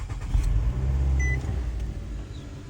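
A 2008–2012 Nissan Altima's engine cranks and catches with a low, steady rumble that holds close and even throughout, with no talking.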